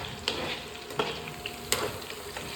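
Food sizzles steadily as it fries in a pan while a spoon stirs it, scraping and clinking several times against the metal.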